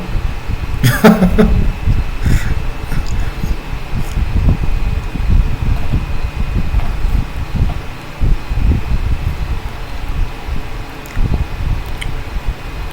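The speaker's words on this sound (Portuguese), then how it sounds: "O problema do áudio não, é o vento, é o som do ventilador." Steady rushing hum of an electric fan running close to the microphone, with continuous low buffeting and rustle throughout and a brief clatter near the start, no speech.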